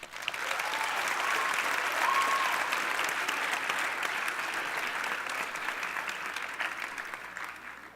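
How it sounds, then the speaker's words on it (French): An audience at a Cégep talent show final at the Maison symphonique de Montréal applauds the jury, a dense, sustained wash of clapping that swells and then gradually fades. "Encore une bonne main d'applaudissements, s'il vous plaît, pour notre jury."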